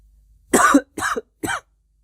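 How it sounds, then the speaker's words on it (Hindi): Three sharp coughs in quick succession, close and fairly loud, with brief silences between them and no talking. "थोड़ी सी खांसी आ रही है"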